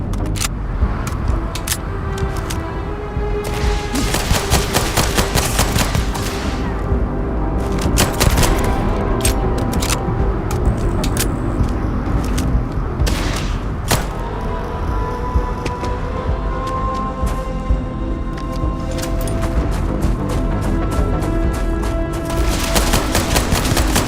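Pistol gunfire in a video game: rapid bursts of shots cluster at the start, middle and end over steady game noise, loud and close.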